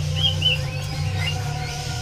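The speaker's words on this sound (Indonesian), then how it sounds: "Di kios ini ada burung seri gunting awar-awar ya." A seri gunting awar-awar bird gives a few brief, high chirps at a market kiosk, fairly faint over a constant low hum of background noise.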